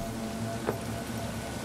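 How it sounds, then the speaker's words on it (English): Night rain in the game Cyberpunk 2077 falls as a steady, even hiss, with a single brief splash-like tick partway through. "It's so rainy tonight."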